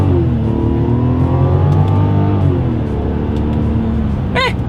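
A 2024 Mazda CX-90 Premium Plus pulls hard in first gear using the paddle shifters, its engine note rising loudly, dipping at a shift and climbing again, with a brief whoop at the very end.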